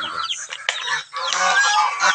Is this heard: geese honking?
yes